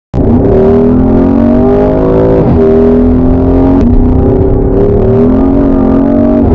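A 2020 Porsche Cayenne Turbo Coupe engine roars loudly and up close, its pitch climbing through revs, dropping briefly at a gear change, then climbing again with a sharp crack midway, with no voices.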